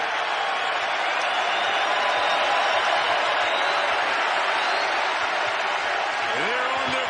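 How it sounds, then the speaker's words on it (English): Packed college basketball arena crowd in Madison during a tied Wisconsin versus Michigan State game late in the second half, a steady loud roar of cheering that holds without break, with a brief sneaker squeak near the end. "Listen to this crowd."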